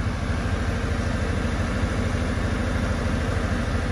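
A Perkins three-cylinder diesel generator engine idles steadily close by, giving a continuous low rumble with a fast, even chug that holds constant throughout, with no talking.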